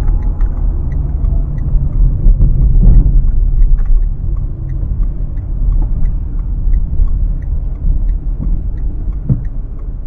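Renault Clio driving on the road, heard from inside the cabin as a steady low engine and road rumble with faint ticking, continuous and fairly loud throughout, with no talk.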